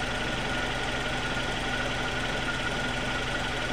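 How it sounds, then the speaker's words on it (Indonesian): A 1997 Suzuki Baleno engine running rough and shaking, a close, steady idle with an uneven pulsing knock throughout and no voices. "Nah, mesinnya goyang seperti ini,"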